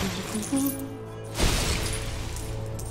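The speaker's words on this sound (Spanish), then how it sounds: "Ahora sí la consiguió romper Gandalf" Gandalf smashes a rock in the LEGO The Hobbit video game, giving one sharp shattering crash followed by a brief rubbly spray of debris over steady game music.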